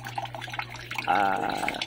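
Water drips and trickles from a newly installed bathroom shower, a close, steady patter over a low background hum.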